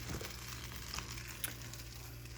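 Breakfast food frying in a pan on a stove turned up high, giving a steady, soft, close sizzle with occasional small pops and stirring clinks, and no speech.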